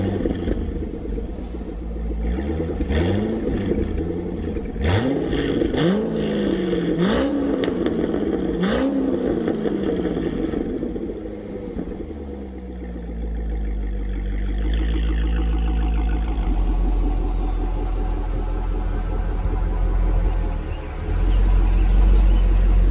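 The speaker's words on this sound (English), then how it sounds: "then we'll go for a drive where I'll be as deliberate and smooth as possible with the throttle as we go up and down hills and slowly accelerate" A Chevrolet C6 Corvette with an LS2 V8, fitted with an LS7 air intake and MAF upgrade, revs in several rising surges while driving, then settles into a lower steady rumble. No one speaks.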